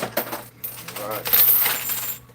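Coins tumbling and clattering inside an arcade coin pusher machine, a dense metallic cascade of chinks and jingles over a low machine hum, loudest in the middle, with no talking.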